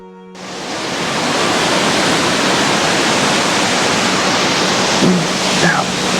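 A smaller waterfall out in the landscape, heard as a steady, loud, broadband rush of falling water that swells in within the first half-second and then holds constant throughout.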